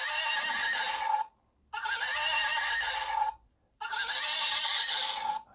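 Three long electronic horse neighs play one after another from the small speaker of a hobby horse toy, each bright, loud and close, separated by brief silences.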